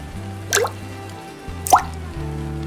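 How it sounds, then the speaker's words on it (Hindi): Rainwater dripping inside a leaking house, two distinct close drips with a clear plop about a second apart, over a low steady hum. "पूरे घर में पानी टपक रहा है, कहीं भी सूखी जगह नहीं बची।"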